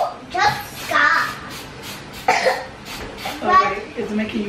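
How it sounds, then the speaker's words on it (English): A sick child coughs several times in a home, short throaty bursts near the mic, with a child and an adult talking between the coughs. "it's making you cough over there"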